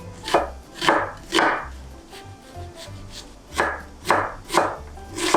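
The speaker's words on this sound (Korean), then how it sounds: "양파 반 개를 썰어서 들어갈 거예요" A knife chops half an onion on a wooden board in irregular bursts of quick, crisp cuts, close and clear, with short pauses between.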